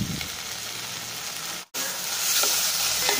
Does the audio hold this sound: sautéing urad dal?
yes